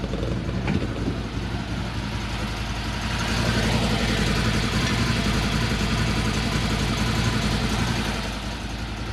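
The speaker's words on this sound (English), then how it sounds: "I'm going to lift the bed up and let you listen to the engine." A 2022 CFMOTO UFORCE 1000 utility vehicle engine idles steadily nearby with the bed lifted, a constant low rumble that swells slightly midway and then eases back.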